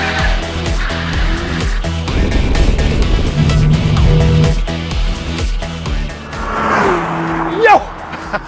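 A race car at Midvaal Raceway approaches and roars past at about 200 km/h, its engine pitch sliding downward as it goes by, loud and close, with voices talking over it.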